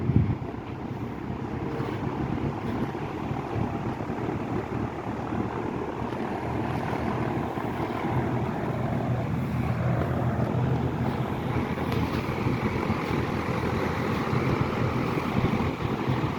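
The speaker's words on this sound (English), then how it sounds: "It has a bit of a whining sound at startup." Westinghouse box fan on its original cord, running on low with a slight whine at startup; a steady, close, broadband whoosh of moving air holds at an even level throughout, with no talking.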